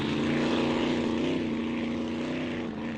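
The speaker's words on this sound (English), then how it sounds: "Oh yeah, and he plays with that throttle." A race car engine drones steadily on the throttle at a circuit, a loud continuous tone with slight pitch swells as the driver plays with the pedal, heard alone for about three seconds.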